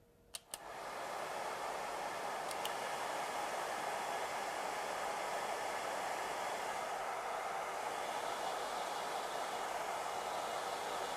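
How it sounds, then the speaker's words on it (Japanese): A hair dryer blows steadily on the roots of freshly grown hair at the scalp, a loud continuous whooshing roar that switches on after a couple of faint clicks and runs on alone without pause. "この根元の部分、ここからドライヤーをかけていきます。"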